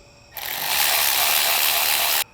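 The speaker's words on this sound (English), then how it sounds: "We're going to use a 10mm socket to remove that screw." Steady, rapid clicking of a ratchet turning a 10mm socket to remove a screw securing the intake tube on a Ram truck, a continuous close mechanical whir for about two seconds.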